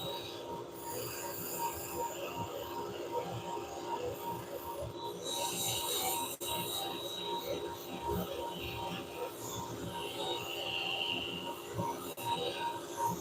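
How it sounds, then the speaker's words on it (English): Sandpaper rubbing the end grain of a wooden bowl spinning on a woodturning lathe, a steady faint scratchy hiss with continuous rough texture and occasional brief clicks. "this end grain is going to be where the tough sanding comes in."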